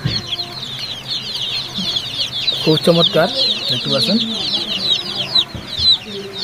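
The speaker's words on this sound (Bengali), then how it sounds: "টাইগার মুরগি বাচ্চা," Tiger breed chicks on a poultry farm give a dense, continuous chorus of high cheeping and clucking throughout, with someone speaking over it in the middle.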